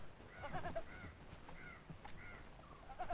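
Short bleats from a goat, several quavering calls spaced across a few seconds, fairly close and alone over faint background noise, with no talking.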